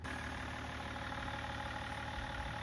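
Steady 3-litre six-cylinder M57 turbo diesel idling in a high-mileage BMW E39 530d, a continuous low rumble with an even, unchanging level throughout and no voices.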